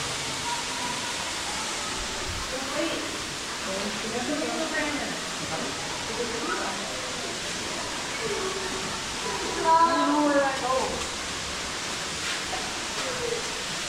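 Steady broadband rush of a waterfall in the Greater Canyon of the Dells at Matthiessen State Park, Illinois, a continuous wash of falling water with voices talking faintly over it and a brief louder surge near the end.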